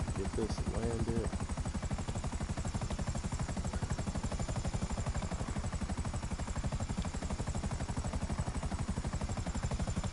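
A helicopter flies in GTA Online, a steady loud rotor chop beating evenly and continuously throughout, with a high engine whine on top and no talk over it.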